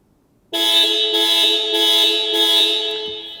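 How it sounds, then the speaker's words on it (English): A 2023 Ford Ranger pickup's horn, sounded from the key fob, honks once as a single sustained blast lasting about three seconds, loud and close, starting abruptly and holding steady. "press this one here, which will sound the horn and flash the lights"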